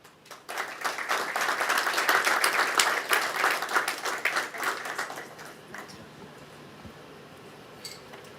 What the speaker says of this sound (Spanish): y les pido un fuerte aplauso.